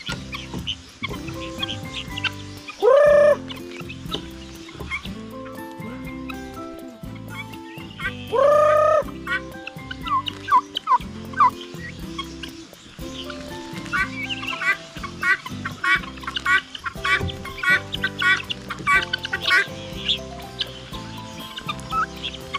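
Guinea fowl and turkeys gobble and cluck repeatedly nearby, with a couple of loud rising calls early on and a busy chorus of chattering calls later.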